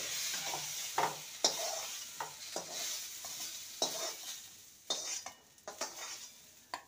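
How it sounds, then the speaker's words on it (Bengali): Ridge gourd and potato chunks fry in a pan with a steady close sizzle, broken by a series of sharp spatula scrapes and stirs at irregular intervals; no voices. "ঝিঙে আর আলুকে ভালো করে ভেজে নিয়েছি,"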